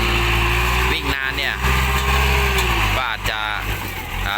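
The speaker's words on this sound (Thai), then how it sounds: "ไล่ดินต่อแล้วครับ รถไถ" A tractor pushes soil while filling a large plot of land. Its engine rumbles loudly and continuously under a voice talking close by.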